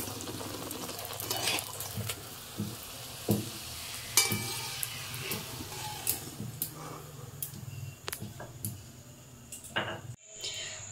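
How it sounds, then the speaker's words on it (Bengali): Luchi puffed bread fries in hot oil with a soft continuous sizzle, interrupted by scattered clinks, scrapes and stirring bumps of a utensil against the pan, fairly quiet and close with no voices. "আবারও আরেকটা ভেজে নিচ্ছি লুচি।"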